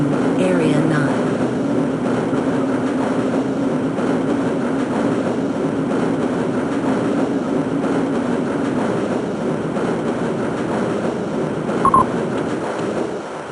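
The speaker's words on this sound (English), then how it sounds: "This train is inbound from the Area 8 topside dormitories to the Central Transit Hub in Area 9." Tram rolling along its track in Half-Life: Blue Shift, a steady low rumble with sustained mechanical hum running the whole time and a brief clank near the end, under a calm announcer voice.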